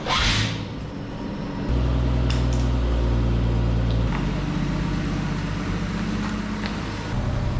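An abandoned 1969 Chevrolet Camaro left sitting for 30 years, its engine running steadily while driving, a loud continuous drone whose pitch steps up and down, with a dragging brake.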